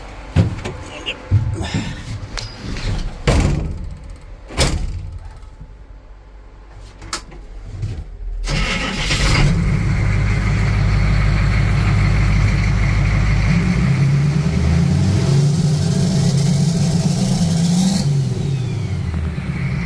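A 6.5 turbo diesel race truck fitted with an S475 turbo clatters through scattered knocks and mechanical noises, then cranks into a loud, steady running roar that swells as the engine revs and the turbo spools.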